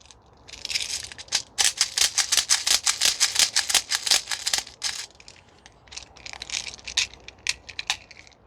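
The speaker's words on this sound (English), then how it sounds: "I'm going to fill 2 mags up here." Sig Spear LT 11.5 gas blowback airsoft rifle magazines being filled at a range, a fast run of sharp clicking and rattling bursts, then a shorter second series after a brief pause, close and distinct with no talk.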